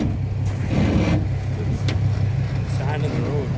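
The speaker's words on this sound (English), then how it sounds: "They told me to put chains on the truck and pull the plow." A truck fitted with tire chains pulls a snow plow up a snowy hill road near an off-grid cabin. A low, steady engine rumble runs throughout while people talk over it.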